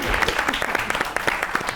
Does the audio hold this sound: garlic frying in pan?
no